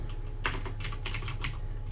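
Brisk typing on a computer keyboard while writing Python code, a quick run of close, crisp key clicks with uneven spacing.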